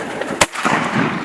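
A single sharp gunshot fired at ducks during a hunt rings out once, loud and close, amid a noisy outdoor background with no voices in it.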